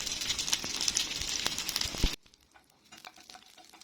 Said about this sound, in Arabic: هنا حطينا بقى حتة زبدة كده حلوة وهنسيحها، وهنحط عليها بقى ايه، تعالوا نشوف. حطينا الليا.